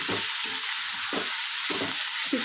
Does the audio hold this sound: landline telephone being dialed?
no